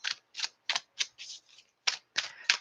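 Tarot cards being shuffled by hand, heard as a quick series of short, crisp papery bursts at close range, in an uneven rhythm with no voices.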